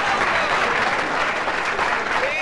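A crowd at a karate fight in a 1992 film gives thick, continuous applause to the fighter tipped to win, loud and even throughout.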